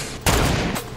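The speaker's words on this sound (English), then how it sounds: "Shots fired!" A double-barrel shotgun fires in the Fortnite video game, a single loud, sharp blast with a brief ringing decay.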